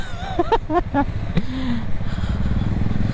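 A motorcycle rides a winding ghat road between Mysore and Ooty through Bandipur Tiger Reserve, its engine a low steady drone, with a few short honking tones early on.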